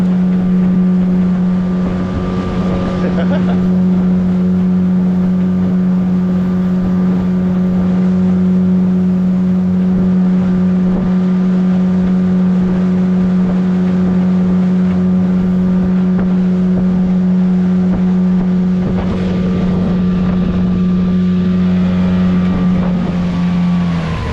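Outboard motor on a dinghy running steadily at throttle, a loud close drone with a strong steady hum and slight variations in engine speed, no voices.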